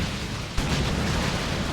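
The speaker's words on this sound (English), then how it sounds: "Big Stranglethorn cannon shot says no." A heavy Stranglethorn cannon shot in Warhammer 40,000: Dawn of War 2 during an Eldar versus Tyranids battle, a single sharp boom landing within a continuous roar of battle noise.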